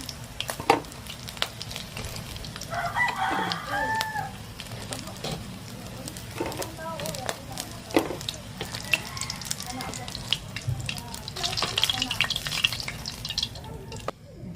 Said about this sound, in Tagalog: Piniprito naman natin yung ating chicken feet